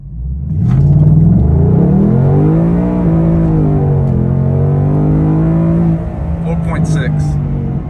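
2021 Ford Mustang Mach 1 launching for a 0-60 run, its V8 roaring up close with a deep rising rumble that settles into a steady drone, heard from inside the car.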